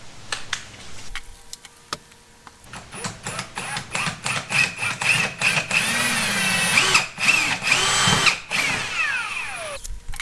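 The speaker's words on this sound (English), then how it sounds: "I'm going to drill my pilot holes next, and the drill bit I'm using is an 1/8 inch." A power drill with a 1/8 inch bit whirs in repeated short bursts, then runs steadily while boring pilot holes, with its pitch shifting under load before stopping.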